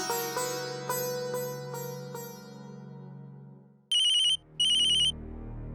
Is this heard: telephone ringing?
yes